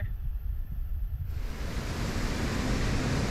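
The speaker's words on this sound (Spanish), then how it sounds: "Mira, es que cascada, tío." Diyaluma Falls, a tall waterfall in Sri Lanka, gives a broad, steady roar of falling water that fills the air and grows fuller partway through, with no voices.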